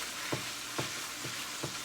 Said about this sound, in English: I'm going to give this meat a nice stir.